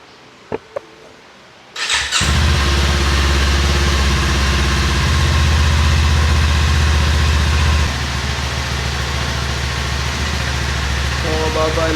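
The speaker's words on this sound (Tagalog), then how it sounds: "Sound check tayo ng stock pipe." A Kawasaki Z400 motorcycle on its stock exhaust cranks and fires after a couple of faint clicks, then settles into a steady, loud, close idle with a slight drop in revs partway through.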